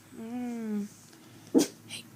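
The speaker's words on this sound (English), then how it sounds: "He's barking outside the window at my family members because they're leaving." A dog barks once, sharp and close, after a stretch of whining, vocal-sounding whimpering lasting under a second; a short faint yelp or breath follows.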